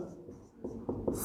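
Pen or marker strokes on a board during a statistics lecture: soft scratching with a few short, distinct strokes, faint and close, with no clear talking over them.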